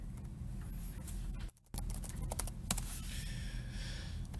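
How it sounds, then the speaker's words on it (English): Rapid keystrokes on a computer keyboard tap out a search term in a steady, close patter, with a brief pause midway and a faint background hum. "I typed in chemistry."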